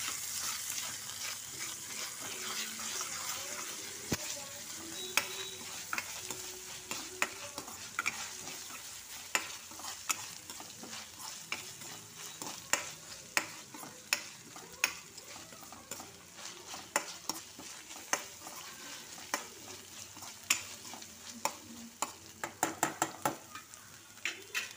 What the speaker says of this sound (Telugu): ఇది పచ్చివాసన పోయే వరకు వేయించుకుందాము ఈ అల్లం వెల్లుల్లి పేస్ట్